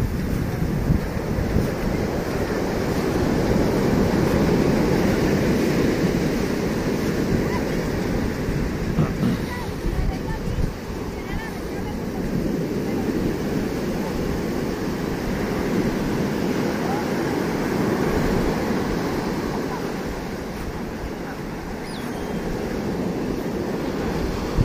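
Ocean waves wash steadily onto the beach at Playa Icacos, a dangerous stretch of shore with strong surf, giving a continuous loud roar with some wind buffeting and no clear pauses.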